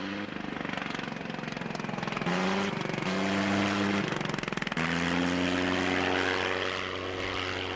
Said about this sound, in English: to hear this engine running wide open, and then it cuts off. And then it comes back on